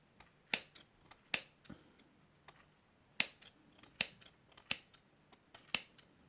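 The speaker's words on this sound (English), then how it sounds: "So I keep snipping." Scissors snip through yarn while a pom pom is trimmed, with sharp, close, fairly quiet individual cuts at irregular intervals, about a dozen over a few seconds, and no voices.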